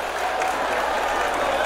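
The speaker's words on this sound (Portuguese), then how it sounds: "Em alto e bom som os aplausos ao goleiro do Santa" A football crowd at a Santa Cruz versus Afogados Pernambucano 2024 match applauds the Santa Cruz goalkeeper, a brief, dense wash of clapping and crowd noise from the stands.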